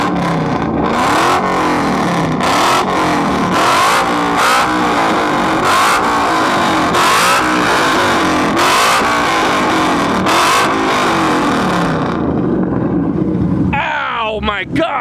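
Straight-piped Nissan 350Z/370Z exhaust revved hard up close, a loud rhythmic series of blips rising and falling about a dozen times before cutting off, with voices briefly at the end.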